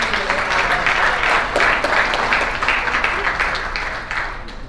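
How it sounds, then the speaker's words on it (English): A crowd at a community mothers' event in Pittsburgh applauds warmly, with dense, sustained clapping filling the room and tapering off slightly toward the end. "Can we just give him another clap?"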